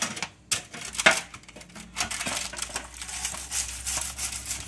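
Scraping and clinking as caramelized beef fond is worked off a roasting tray lined with parchment for broth, a busy run of close scratchy strokes and light metallic taps.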